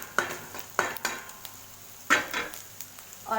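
A paneer mixture is stir-fried in a pan over a full gas flame, with soft sizzling under repeated sharp scrapes and clinks of a utensil against the pan, several distinct strokes at irregular intervals.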